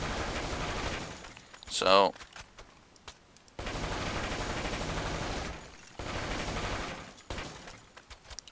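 The CS59 gun in the Blackshot video game fires long, rapid sustained bursts, loud and close, broken by short pauses, with a sharp metallic clatter near the start and a brief spoken word.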